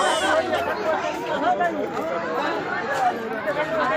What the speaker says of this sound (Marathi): किती गर्दी आहे